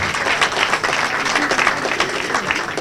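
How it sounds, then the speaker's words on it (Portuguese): Steady applause from a crowd, many hands clapping together at a loud, even level throughout. "Uma salva de palmas para eles."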